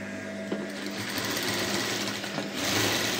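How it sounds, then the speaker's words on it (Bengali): A sewing machine runs continuously and close while top-stitching a kurti seam, a steady loud whir that swells slightly toward the end. "জয়েন করার পরেও এর উপর দিয়ে একটা চাপ সেলাই দেবো"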